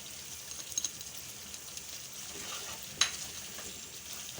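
Beef karahi fries in a pan with a faint, even sizzle and occasional soft stirring taps, including one sharper knock near the middle; no talking.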